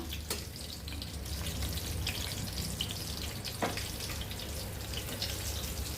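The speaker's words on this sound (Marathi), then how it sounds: "5 ते 6 मिनिटं लागतात फक्त भजी फ्राय व्हायला" Drumstick pod bhaji fritters deep-fry in hot oil, a dense continuous sizzle and bubbling heard close up, with a few sharp clicks of a utensil and a low background hum, no voices.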